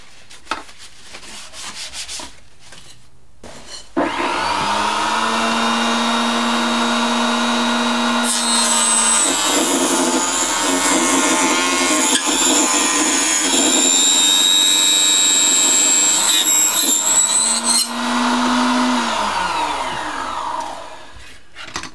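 A Proxxon KS230 table saw for model making spins up, then cuts through a wood strip with a loud, steady whine that rises in pitch during the cut before the motor winds down, with no one talking.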